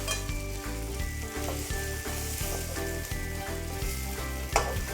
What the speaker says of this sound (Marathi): सगळ्या बाजूने व्यवस्थित आपण पलटी पलटी करून फ्राय करून घ्यायची आहे